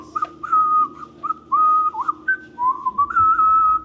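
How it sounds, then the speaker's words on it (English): A man whistles a Christmas jingle tune over an office intercom, clear melodic phrases with short pauses, sounding slightly thin and boxy as if through a speaker. "he was whistling on the intercom earlier, Christmas jingles"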